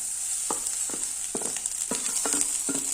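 Onions sauté in a hot pan for a mixed rice dish, a steady bright sizzle broken by about six scraping stirs of a spatula, close and loud.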